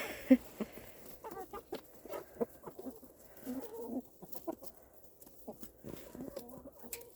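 A rooster clucks and calls in bursts near by, with other chicken noises scattered throughout and faint background activity.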